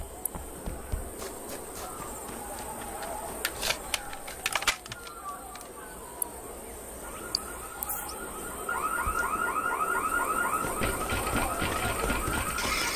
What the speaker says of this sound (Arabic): جهز الإنذار.